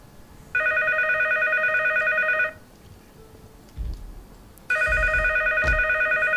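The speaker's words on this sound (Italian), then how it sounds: "non è il telefono, è Steam." Steam's incoming call ringtone sounds as two steady electronic tone bursts, each about two seconds long, separated by a quiet gap with a few soft thuds, loud and clear with no voices.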